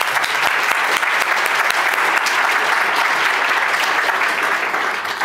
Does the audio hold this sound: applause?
yes